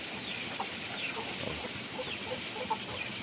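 Hens cluck softly in a village farmyard, with scattered short calls over a steady, busy background hiss of all-day rain.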